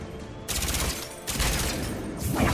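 Automatic weapon fire in the video game Mass Effect 3 comes in two loud sustained bursts separated by a short gap, then a third burst begins, close and dense, with no speech.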